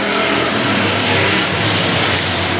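Slingshot race cars roar together as the field pulls away on a green-flag restart at a short-track heat, a dense, loud, continuous engine blare with no voices.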